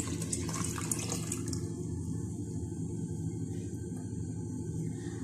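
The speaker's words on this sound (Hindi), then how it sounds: "ये अब हम इसमें पानी ऐड कर लेते हैं एक जग और।" Water from a jug pours into a cooking pot while village-style kadhi pakora is being made, a steady continuous rush of liquid that stays loud and close throughout, with no talk.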